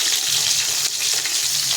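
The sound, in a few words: frying food pieces in a pan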